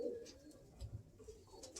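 Roller pigeons coo softly in a few low, faint bursts, with light background noise around them.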